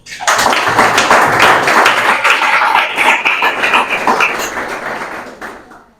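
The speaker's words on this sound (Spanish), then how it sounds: "Denle un fuerte aplauso al Señor." A church congregation breaks into loud, dense applause that rises quickly, sustains for several seconds and then tapers off.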